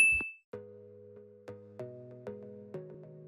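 A short high ping, then a series of soft, ringing bell dings, one after another at a steady pace, each fading slowly.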